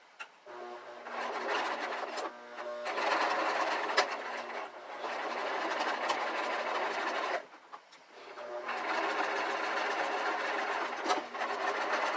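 A sewing machine double-stitches a fabric face mask, its steady mechanical whirring running in long bursts with brief pauses between runs, fairly close and alone.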